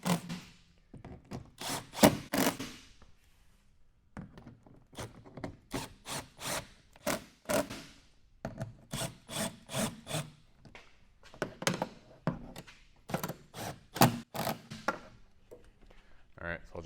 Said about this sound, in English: We're gonna use a T30 here to tighten these. They are serrated nuts.